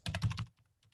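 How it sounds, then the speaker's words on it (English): A short burst of typing on a computer keyboard: a quick run of about five close, crisp keystrokes followed by a few fainter taps, quiet and without speech. "You just type your title."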